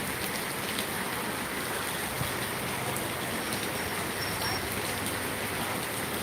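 A heavy downpour drums outside the front of a church during its parish feast at Adupputty, a dense, steady roar of rain that fills the whole stretch without a break.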